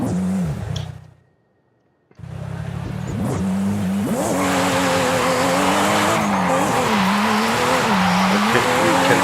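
Tires squeal through a long drift in Forza Horizon 6, the engine note rising and wavering under sustained screeching after a brief silent gap, loud and close throughout.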